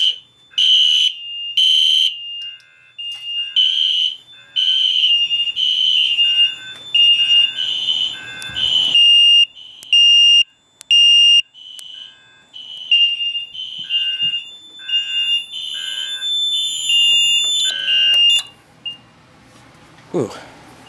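A Siemens SXL-EX fire alarm system sounds after a pull station test, with a loud, shrill electronic tone pulsing in a repeating pattern for most of the stretch before cutting off, and people talking underneath it.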